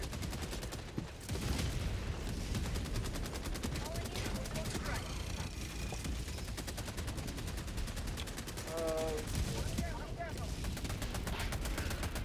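Rifle gunfire in a sci-fi video game battle at a destroyed-wall last defense, with rapid bursts of shots and explosions rattling continuously alongside other weapons throughout, with a player talking over it.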